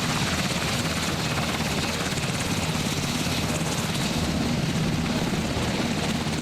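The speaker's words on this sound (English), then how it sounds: "Check out a close-up of an Ericsson air crane taking off." An Erickson Air-Crane twin-jet-engine heavy-lift helicopter takes off, its rotors thrumming loudly and steadily up close, a continuous heavy engine roar with no voices.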